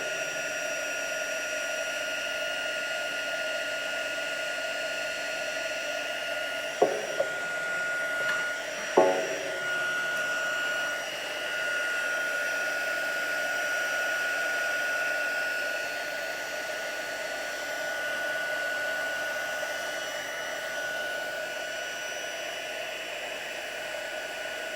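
A handheld heat tool blows steadily for about twenty-five seconds, melting white embossing powder on a card-making project, with a constant airy whoosh and a couple of brief clicks partway through; no one speaks.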